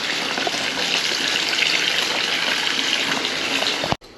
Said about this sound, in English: So I am going to have to add some more water to this.